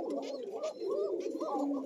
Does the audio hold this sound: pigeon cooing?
yes